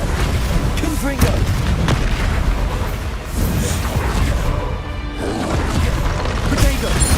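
A fiery Confringo blast spell in Hogwarts Legacy combat, heard as booming, crashing impacts within a dense, loud game mix of battle effects and voices, continuous for several seconds.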